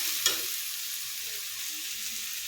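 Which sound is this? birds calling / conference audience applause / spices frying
spices frying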